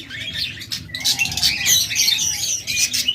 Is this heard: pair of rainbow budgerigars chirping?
yes